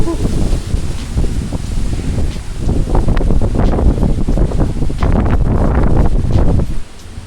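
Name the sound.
wind after Hurricane Beryl at a resort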